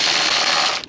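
A ratchet turns out T25 screws at the top of the lower timing cover on an Audi Q5 2.0T, a close, loud, continuous gritty whir under a second long.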